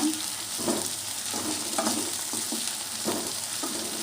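Ginger paste frying in a pan for an amaranth leaf fry, a steady close sizzle broken by repeated stirring scrapes, with no talking.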